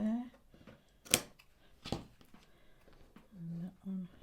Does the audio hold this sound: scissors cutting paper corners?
yes